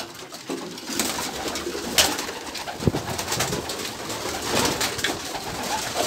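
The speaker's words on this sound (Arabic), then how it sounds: "عولنا على الحمام يطير بكري" Pigeons cooing and flapping as a loft flock takes off outdoors, soft steady coos with a few sharp wing claps and rustles over constant ambient noise.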